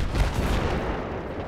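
Dense gunfire in a multiplayer shooter video game fills a short burst of overlapping shots and booms. It is loud and continuous, with no voices.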